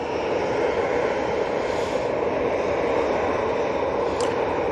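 An Ethiopian Airlines airliner approaching Manchester Airport, a steady, distant broadband engine rumble holding at an even level throughout with no other sounds standing out.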